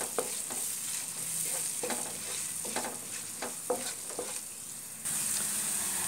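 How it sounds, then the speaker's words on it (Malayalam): Chili powder and spices roasting in oil over a low flame for a lemon and jaggery pickle, a soft steady sizzle with repeated spoon scrapes across the pan, close and with no voices. "ഇനി നമുക്ക് ഇത് ഒരു ലോ ഫ്ലെയിമിലാണ് നന്നായിട്ട് ഇങ്ങനെ മൂപ്പിച്ചെടുക്കാം."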